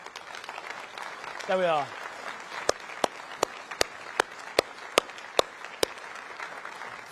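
Conference audience applauding at a party conference speech on policing, a steady dense patter of clapping with sharp louder claps standing out, while someone speaks briefly over it.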